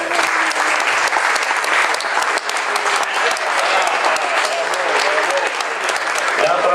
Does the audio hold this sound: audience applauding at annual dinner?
yes